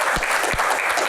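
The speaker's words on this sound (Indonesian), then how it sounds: "tepuk tangan" A studio audience breaks into dense, steady applause for a moment, with a few sharper, louder claps standing out near the start and middle of the short burst.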